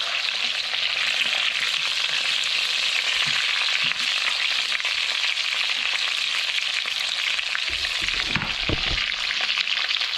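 Horse mackerel (scad) fillets fry in a crowded pan, with a loud, steady hiss and crackle of hot oil that holds throughout, broken near the end by a few low clunks from the pan.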